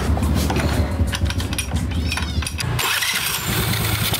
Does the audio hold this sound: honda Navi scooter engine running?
yes